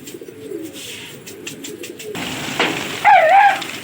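Pigeons are released during a pigeon-flying contest: a soft rustle leads into a sudden burst of wing flaps and a clear, close call near the end, all within a few seconds.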